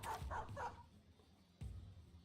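A dog in the video game Battle Brothers gives three quick barks in a row, then a short thud and quiet game ambience follow, faint overall and without speech.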